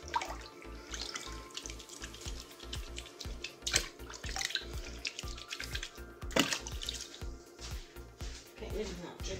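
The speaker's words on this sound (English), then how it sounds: "Get rid of that dripping tap." Water runs and drips from a tap in a steady rhythm, quiet and close, with faint talking and clinks in the background.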